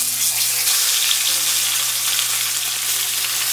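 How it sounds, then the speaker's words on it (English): Hilsa fish head frying in hot mustard oil, a steady loud sizzle and crackle filling the pan with no break. "Oil is now hot, so I will add the fish head."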